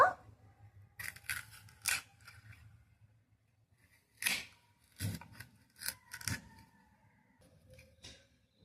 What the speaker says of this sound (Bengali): এখন আমি ভালো করে কেটে নেবো এখন আমি লম্বা লম্বা করে কেটে নেব